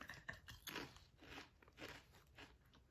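Cheez-It Snapped sour cream and onion crackers are bitten and crunched close up, several brittle crunches and chewing sounds in quick succession, fairly quiet and without talk.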